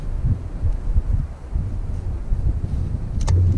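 Wind buffets the microphone outdoors during an oil change on a 5th Gen RS, a low rumbling roar that pulses and stays fairly loud throughout the short stretch, with no speech.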